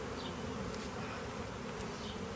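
Honey bees buzz steadily around a hive entrance, a dense, continuous swarm drone heard up close with no voices.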